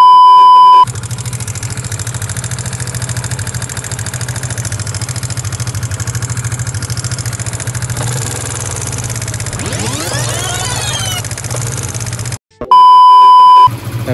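A Yamaha LC135 motorcycle engine idles close by after a tappet valve adjustment, running smooth and steady for about twelve seconds with a quiet, even putter, with no talk over it.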